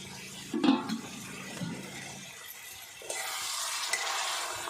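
A spoon stirs mutton curry in a pot over a wood-fired village stove, with wet scraping and a clunk against the metal, followed by a steadier simmering hiss, close and moderately loud.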